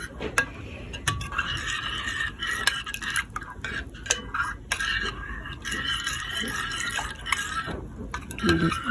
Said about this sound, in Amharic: እያየን ውሃውን እንጨምራለን።